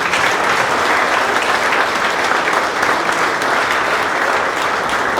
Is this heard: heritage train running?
no